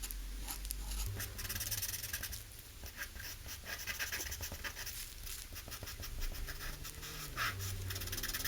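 A pencil scratches across paper in a close, quiet chess drawing, with continuous soft strokes and rubbing and a low hum underneath.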